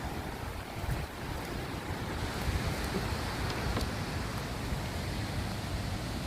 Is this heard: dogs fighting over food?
no